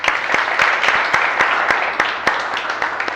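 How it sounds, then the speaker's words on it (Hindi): A small audience of students in an organic chemistry class claps, the applause fairly close and loud with individual sharp claps standing out in an uneven rhythm. "मैं चाहूँगा एक बार ताली बजा दीजिए इन लोगों के लिए आप लोग"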